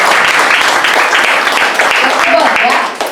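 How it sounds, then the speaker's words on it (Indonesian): Audience applause in a seated sales-training seminar, steady dense clapping close and loud for about three seconds, tapering slightly at the end. "Tepuk tangan dulu untuk Anda."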